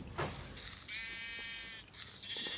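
Sheep in the Minecraft Pocket Edition survival game bleat in a few short, wavering calls. They are faint and come one after another with small gaps, over quiet game background noise.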